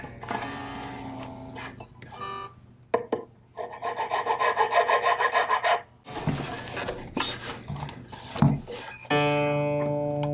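Guitar nut slots on a 335 with a nylon nut are filed by hand, giving short bursts of rhythmic rasping strokes, close and clear, separated by pauses and a few metallic clicks and tuning tones.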